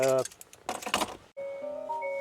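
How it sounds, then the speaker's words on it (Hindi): After someone talks briefly, a car is switched on and its cabin gives a few clean electronic chime tones, close and clear. "अब ये मैंने गाड़ी टर्न ऑन की है"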